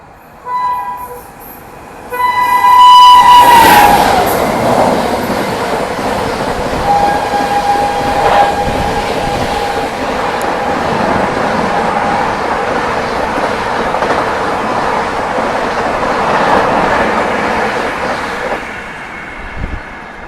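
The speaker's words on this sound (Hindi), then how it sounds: "ये जबरदस्त हॉकिंग और स्पीड के साथ आ रही है अभी नई दिल्ली रांची गरीब रथ एक्सप्रेस" The New Delhi–Ranchi Garib Rath Express tears past at speed, its horn blaring in a long loud blast before the steady roar and rumble of the passing coaches carry on, with a few brief extra honks.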